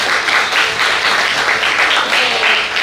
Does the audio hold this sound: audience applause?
yes